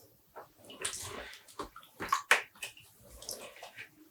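Dyed tweed yarn gets a final rinse in a basin of water, with soft, intermittent sloshes and splashes, close and quiet.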